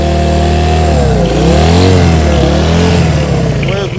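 A 1971 Honda CB100 motorcycle engine running loud and close, its small single-cylinder note rising and falling through several revs.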